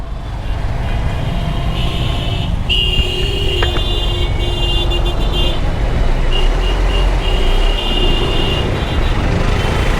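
A bus passes close on a busy, crowded road, heard as a loud continuous traffic roar with engine rumble and horn-like tonal blasts, recorded from a bike in heavy traffic.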